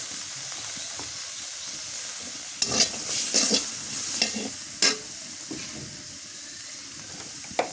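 Chopped onion and green chili frying in hot oil, a steady, close sizzle punctuated by several sharp spatula scrapes and clatters against the pan, with no talking.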